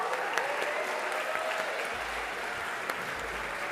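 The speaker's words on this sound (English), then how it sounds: "So give yourselves a round of applause." An audience at an evening Latinx event applauds steadily, a dense wash of clapping heard from a moderate distance, with a few sharper claps poking out and no voices.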